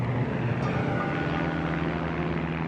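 A propeller bomber circles overhead, its engines giving a constant loud droning roar that fills the whole stretch without letup or voices.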